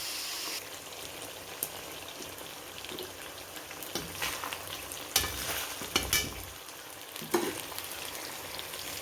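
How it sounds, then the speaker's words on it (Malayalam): Fish cooking in oil with curry leaves for a homemade fish pickle: a soft, continuous sizzle close by, broken by scattered clinks and scrapes of stirring. "മീൻ നന്നായിട്ട് വെന്തുകൊണ്ടിരിക്കുകയാണ്"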